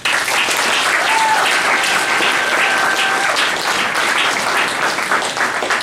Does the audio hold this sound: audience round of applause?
yes